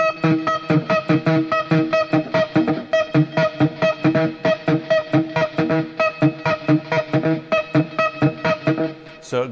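A distorted electric guitar churns through a fast, chugging riff of steady repeated palm-muted notes, loud and close, with no talking.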